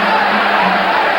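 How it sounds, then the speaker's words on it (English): A boxing crowd at an Alexis Arguello vs Alfredo Escalera fight, roaring and cheering Escalera on in a dense, loud, continuous wash of voices. "The crowd exhorting Escalera on"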